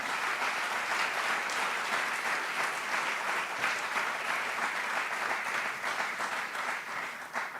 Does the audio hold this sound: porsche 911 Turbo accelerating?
no